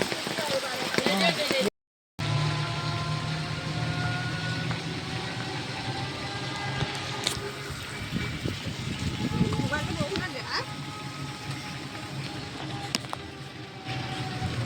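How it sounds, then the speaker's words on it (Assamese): Heavy rain pours down steadily on the way between Udalguri and Tezpur, a dense, even hiss that lasts throughout, with a faint vehicle engine rumbling underneath and a brief break near the start. "এতিয়া ইমান বৰষুণ দিছে"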